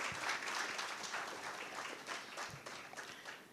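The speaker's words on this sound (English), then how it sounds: "a round of applause as they come up" A conference audience at a sustainable energy week event applauds as people come up, a steady distant wash of clapping at low level.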